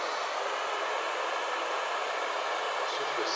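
Steady, close whoosh of a hair dryer running on high, unbroken throughout.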